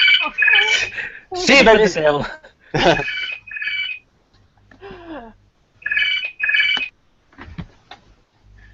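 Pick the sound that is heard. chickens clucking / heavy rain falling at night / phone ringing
phone ringing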